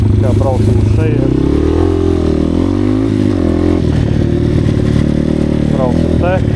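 An Asix Defender 150 motorcycle ridden along a countryside track: a loud, steady mid-pitched engine drone with pitch rising and falling as it revs, with a voice briefly heard over it.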